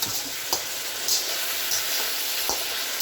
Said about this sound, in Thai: ผัดสปาเกตตี้